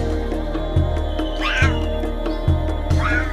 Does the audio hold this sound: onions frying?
no